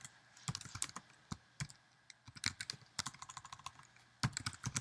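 Computer keyboard keys typed in short irregular bursts of crisp clicks, entering a password for a database login, close and fairly quiet with pauses between runs of keystrokes.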